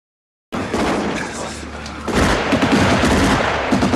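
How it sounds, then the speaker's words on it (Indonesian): Rapid gunfire from a war film set at the Battle of Stalingrad, a loud continuous burst of shots and booms that starts suddenly after a moment of silence and thickens partway through, with voices underneath. "salah satu prajurit Jerman yang bernama Müller menembak ke arah persembunyian musuh"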